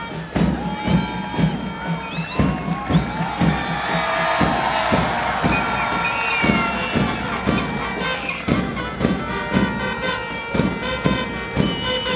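A stadium crowd at a football match in India roars and cheers steadily, with scattered whoops, shouts and dull thuds rising over a dense, continuous wall of noise.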